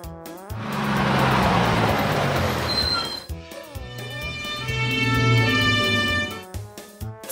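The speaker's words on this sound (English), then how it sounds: "Airport bus." An airport bus engine swells into a loud, broad rumble, then settles into a lower, steadier drone that rises again before easing off.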